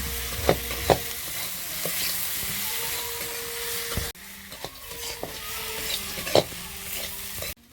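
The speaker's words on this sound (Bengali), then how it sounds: "এবার আমি মাছটা দিয়ে দিচ্ছি, দিয়ে ভালো করে নাড়াচাড়া করে দিচ্ছি।" Small puti fish and potatoes frying in a pan give a continuous sizzle while a utensil stirs with irregular clinks and scrapes against the pan. The sound is close and drops briefly midway, with no talking.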